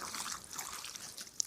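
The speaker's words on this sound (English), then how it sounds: "Now I'm washing these carrots." Cold well water trickling and splashing over carrots as they are washed, a soft, steady running stream with a small drip near the end, with no voices.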